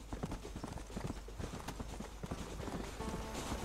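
A horse's hooves clip-clop in a quick, continuous gallop in the video game Red Dead Redemption, quiet and even throughout, with no talking.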